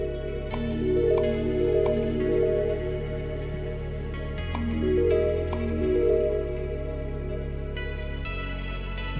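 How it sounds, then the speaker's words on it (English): Research points being collected in the factory game Shapez 2, heard as a steady bed of layered electronic game tones with soft repeating chimes and pulses, no talk over it. "That noise is so good because that tells me we get a lot of research points."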